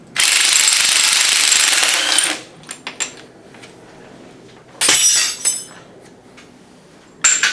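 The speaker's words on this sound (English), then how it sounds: "we're going to undo this top nut here, 22mm" An impact gun rattles loudly in long bursts while undoing a 22mm top nut on a car suspension strut, with a few faint metallic clicks and knocks in the pauses between the bursts.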